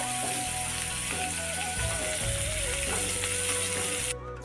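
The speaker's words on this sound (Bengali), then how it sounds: "গাজরগুলোকে এখন কড়াইয়ের মধ্যে দেওয়া হচ্ছে ভাজার জন্য" Carrots fry in a kadai with a steady, close sizzle that runs throughout, with tonal music-like sounds underneath, before it drops off abruptly at the very end.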